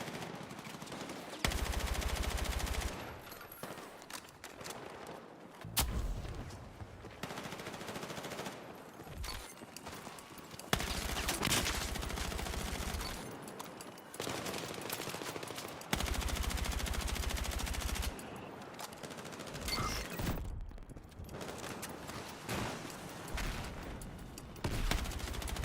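Automatic gunfire from the Helldivers video game comes in long sustained bursts, loud and dense, broken by short gaps and scattered single shots across the span.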